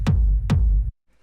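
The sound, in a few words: techno kick drum playing constant quarter notes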